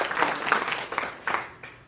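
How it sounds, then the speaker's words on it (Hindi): Brief applause from an audience at a poetry event in Jaipur, a short burst of scattered clapping in uneven waves, moderately loud and fading out after about two seconds. "ज़ोरदार तालियां हो जाए बकुल देव जी के लिए।"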